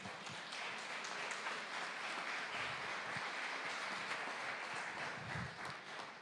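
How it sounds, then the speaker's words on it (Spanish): Church congregation clapping for the Lord at an anniversary service, a dense, continuous wash of applause from many people that holds steady throughout, moderately quiet and without any voices. "Denle un aplauso al Señor."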